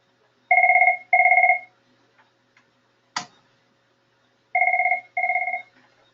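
A mobile phone rings with paired bursts of a bright electronic tone, two at the start and two more later, loud and close, with a sharp click between them and no talking.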